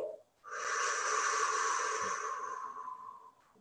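A long, breathy exhale during a calm breathing meditation, one steady whooshing breath lasting about three seconds, close and alone.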